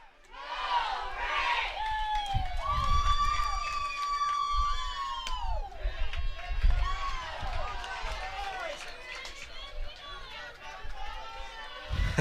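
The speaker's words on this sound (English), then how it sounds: "I love the all gas, no brakes cheer" Softball fans at a 2022 Division II championship game between Rogers State and UT Tyler chant and shout together in a loud, sustained crowd cheer, with whistle-like tones and an announcer talking over it.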